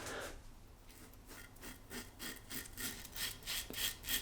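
Gillette Super Speed Red Tip 1959 replica safety razor shaving: a quiet, close rasping scrape repeated in short strokes, a slightly metallic scratch rhythmically drawn across stubble.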